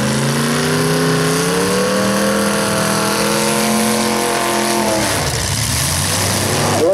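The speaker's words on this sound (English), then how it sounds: "He was just laying the throttle to it." A full-size car in a county demolition derby heat revs hard and loud, its engine pitch climbing steadily before breaking into rough, noisy churning, with no talking over it.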